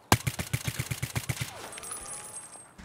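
Full magazine emptied in Escape From Tarkov: a rapid string of about ten loud, evenly spaced gunshots, then a ringing tail as the burst stops; no talking.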